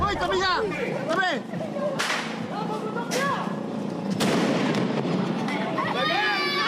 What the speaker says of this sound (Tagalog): Kaliwat ka ng paputok ang sinindihan nila sa kalsada para salubungin ang Pasko.